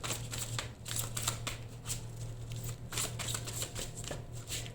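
Tarot cards are shuffled by hand in a steady run of crisp riffling and flapping, with a brief pause partway through and no talking.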